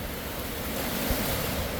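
Ocean waves wash up on a Florida beach with a gentle slope, a steady broadband rush of surf with a slight swell near the middle, close and continuous.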